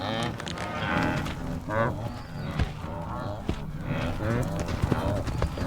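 A wildebeest herd approaches water, hooves drumming in a dense, continuous rumble with scattered grunts and lowing from the animals, and a narrator talking over the herd.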